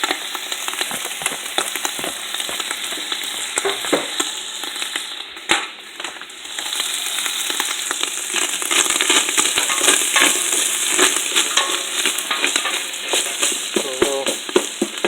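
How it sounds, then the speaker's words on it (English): Ground hamburger meat cooks in a pan with a little olive oil, giving a steady close crackle and sizzle with scattered pops and faint stirring throughout, no talking. "Here's my hamburger just cooking away. What I did is I tossed a little bit of olive oil"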